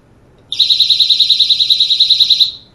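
An electronic fishing bite alarm clipped onto a rod for stocked trout, switched on and giving a loud, rapid pulsing electronic beep, about twenty even pulses over two seconds, close by with no talk.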